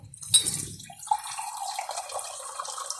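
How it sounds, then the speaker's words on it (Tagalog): Water runs steadily from a tap after a brief clatter, a continuous close splashing stream filling a vessel. "dito lang po tayo kukuha ng tubig sa garipo"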